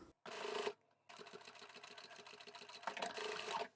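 A sewing machine stitches darts on the bottom of a zippered wristlet pouch, running in quick rhythmic bursts with pauses and short reversals for backstitching at each end, heard close and alone.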